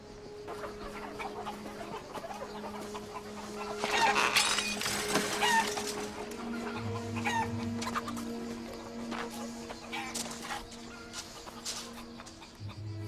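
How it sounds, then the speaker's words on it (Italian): Chickens cluck and squawk nearby in an irregular chatter, with a low hum and some rustling in the background. "Vado a dare da mangiare alle galline."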